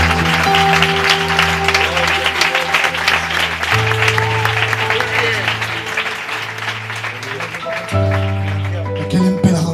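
A church congregation applauds at a Spanish-language sermon, dense clapping running steadily for about ten seconds, with sustained musical tones underneath.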